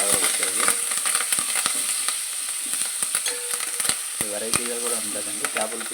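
Curry leaves sizzling in hot oil in a pan, a loud, crackling fry with sharp pops and stirring clatter, and someone speaking over it.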